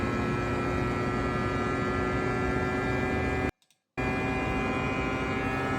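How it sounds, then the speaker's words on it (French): In a Tesla Model 3 cabin, the heat pump runs in cooling mode as a steady electrical hum with a tonal whine. It continues at an even level, cuts out briefly near the end, then resumes. "c'est la pompe à chaleur en mode refroidissement de l'habitacle"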